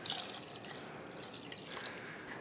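The last of the water pours into a pot of lentils, a faint light trickle and splash with soft drips, quiet and alone without talk.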